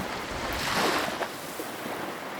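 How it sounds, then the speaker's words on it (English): Ocean waves and a stormy wind surge around a ship at sea as a sound effect in a storybook reading. A continuous rushing roar swells briefly and then holds steady, with no voices. "Huge waves toss the ship back and forth."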